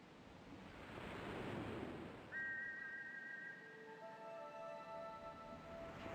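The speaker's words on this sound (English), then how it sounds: "You put the shiny silver whistle to your lips and forcefully blow into it, producing a loud tweet" A silver whistle blown at the shore edge in King's Quest IV sounds as a loud, sustained two-tone tweet that cuts in partway through and holds steady over a constant rush of surf and wind, with further whistle tones layering in toward the end.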